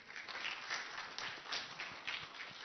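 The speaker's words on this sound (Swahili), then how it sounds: "Hiyo makofi sio ya SG." Audience applause at a political press event in Kenya, steady dense clapping from a crowd at moderate distance, continuous throughout with a few louder swells.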